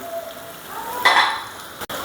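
Small local shrimp sizzle in hot oil with chopped onion and garlic, a steady close frying hiss that swells briefly into a louder crackle and then settles, with no talking.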